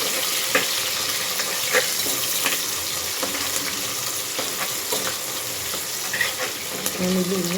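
Sliced onions sizzle and fry in hot oil in a pan for vegetable palav, a steady close crackling hiss with occasional clinks of stirring and light talk in the background.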